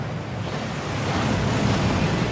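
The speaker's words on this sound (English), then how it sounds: "That waterfall washes away all enchantments." A rushing waterfall in the Gringotts vaults of the Hogwarts Legacy video game pours as a dense, steady roar of falling water, loud and close, without any voices.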